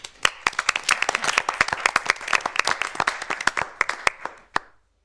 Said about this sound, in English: I would like to lead a round of applause.